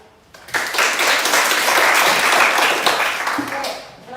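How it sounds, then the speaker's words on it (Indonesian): A classroom of students gives a loud burst of clapping for a presenting student group. It swells quickly, holds for about three seconds, then tapers off. "Kalau tidak ada, maka kita berikan tepuk tangan kelompok 2."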